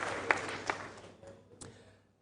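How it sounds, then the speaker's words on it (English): Spectators at a school quiz competition applaud the contestants, a soft, distant patter of clapping with a few sharper claps that fades out to near silence after about two seconds. "A round of applause for the"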